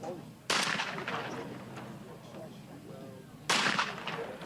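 Two sharp, loud shotgun blasts at a sporting clays world championship, about three seconds apart, each ringing out with a long outdoor tail over a low background rumble.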